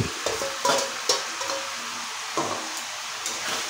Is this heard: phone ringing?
no